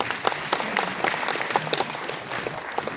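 An audience bursts into lively applause at an inauguration ceremony for the Maharashtra-Jammu & Kashmir Friendship Chapter, with crisp, close individual claps poking out above a fairly dense crowd clapping.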